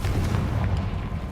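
Confringo fire spell exploding in Hogwarts Legacy, a short, loud, deep boom with a rumbling tail, heard on its own.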